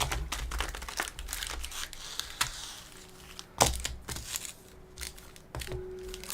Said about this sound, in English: So let's get these shuffled up.